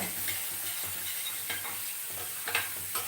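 Food stir-fried in a pan for a simple curd dish, with faint sizzling and repeated soft scrapes of a spatula at an uneven pace close by.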